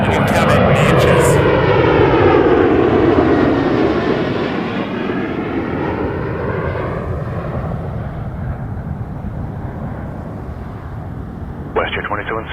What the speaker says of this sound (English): I always like how the 737s get so close to the ground on rotation.